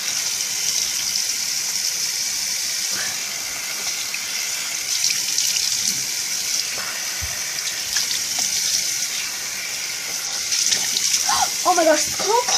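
Tap water running steadily into a bathroom sink while someone washes their face, a constant close hiss with splashes, and a person speaking briefly over it.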